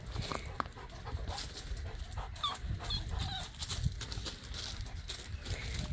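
A puppy whimpers and pants close by in a quiet outdoor farm-like setting, with brief soft yelps and squeaky cries scattered over a faint background of other animal sounds.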